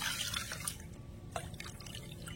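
Water pours into a cooking pot holding cracked cardamom pods, in three bowlfuls, while a sweet semolina dessert is made. It gives a soft, faint splashing and trickling close by.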